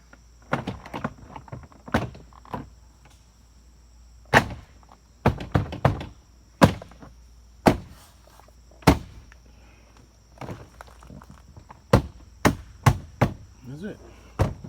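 A car door panel is pressed back onto the door and knocked into place, producing a series of about a dozen sharp, close thunks and knocks at irregular intervals, with quiet pauses between them.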